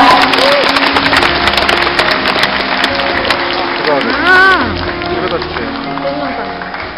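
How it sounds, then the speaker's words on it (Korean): Audience applause greets the grand prize winner of a pansori competition in Gurye, a continuous wash of clapping beneath a loud, close announcer's voice. "큰 박수 다시 한번 보내드리기 바랍니다"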